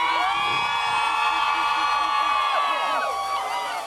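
Visiting East Central fans cheer at a football game, a dense roar of crowd voices and whoops that stays loud and constant, with individual shouts rising above the wash of noise.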